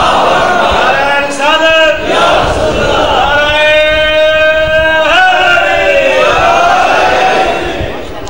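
A crowd at a religious majlis gathering chants a slogan loudly and close by. The shouts are long and sustained and repeat in call-and-response waves, with the voices swelling and then fading.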